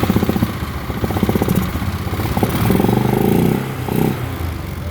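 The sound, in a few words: Polaris Sportsman ATV engine running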